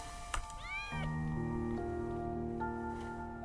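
A cat in the video game Impostor Factory lets out a short rising meow, then a sustained tonal musical drone with shifting notes continues underneath.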